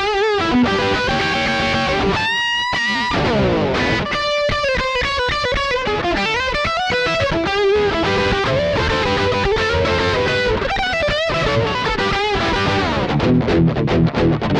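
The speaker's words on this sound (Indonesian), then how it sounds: "Ini humbucker di bridge pickup." An Aria Pro II Fullerton electric guitar plays through its bridge humbucker pickup with heavy distortion, loud chords and riffs with sustained ringing notes and short breaks between phrases.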